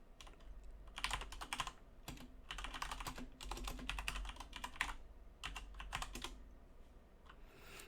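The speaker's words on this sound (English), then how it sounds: "And I'm typing it incorrectly." Rapid typing on a computer keyboard comes in bursts of quick clicks with short pauses between them, close and fairly quiet, with no talking.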